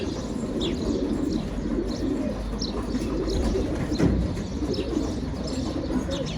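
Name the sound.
young pet pigeon flying back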